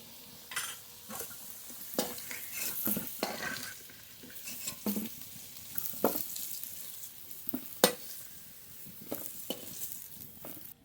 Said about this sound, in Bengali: আলু খুব ভালো করে ভেজে নেব আলু লাল লাল করে ভেজে নিয়েছি